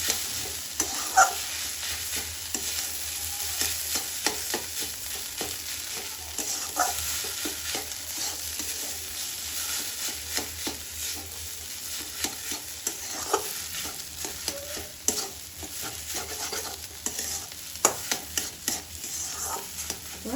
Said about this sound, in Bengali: আলুটা মশলাটাকে এইভাবে মিক্স করে নেব